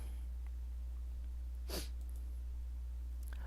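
One sharp sneeze bursts out at close range midway through, otherwise quiet with a steady low hum underneath.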